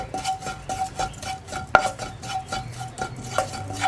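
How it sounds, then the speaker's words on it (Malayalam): Chili powder and spices get stirred in a hot pan for a carrot and beans curry, a rhythmic scraping of spoon against metal with one sharp clack, close and steady, no talking. "ഇതാ മുളക് പൊടിയും കൂടി ചേർത്ത് കൈയെടുക്കാതെ ഇളക്കി കൊടുത്തുകൊണ്ടിരിക്കുക"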